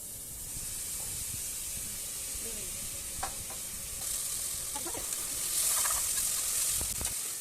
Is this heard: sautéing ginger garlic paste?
yes